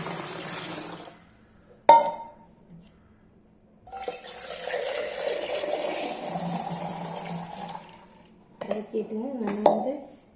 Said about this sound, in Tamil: இப்போ தண்ணி ஊற்றணும்.